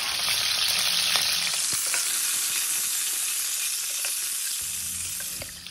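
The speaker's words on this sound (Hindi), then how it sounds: "अब मैं फ्राई करूंगी अंडा, पहले बॉईल करके रखा था मैंने।" Pre-boiled eggs fry in a pan with a dense, continuous sizzle and spatter, loud and close throughout and easing off slightly toward the end.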